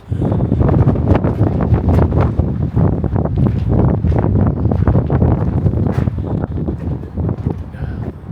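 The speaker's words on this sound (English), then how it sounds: "the wind might take my voice away anyway" Strong wind buffets the microphone outdoors at Brough, a loud continuous roar with gusty rumbling thumps that stays steady throughout and never lets up.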